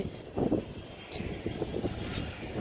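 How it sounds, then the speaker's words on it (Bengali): Gusty wind on a rooftop buffets the microphone in low, uneven rumbles, rising and falling over a couple of seconds with no voices. "প্রচন্ড হাওয়া। এই দেখো সব উড়িয়ে নিয়ে যাচ্ছে।"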